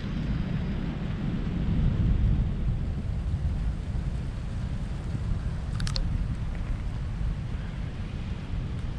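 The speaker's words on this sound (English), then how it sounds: "Now the rain's starting to come down again." Heavy rain and rolling thunder during a lightning storm over Fort Erie near Niagara, a dense, steady low rumble and hiss that stays loud throughout, with one brief high chirp partway through.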